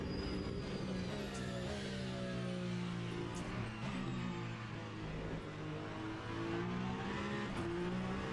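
A hypercar engine in the racing game Le Mans Ultimate drones steadily at high pitch throughout, with shifting harmonic whine, continuous and loud, no voices.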